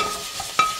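Minced garlic hits a hot pan for chicken tinola soup, a quick sizzle rising sharply after a brief stir, close and fairly loud.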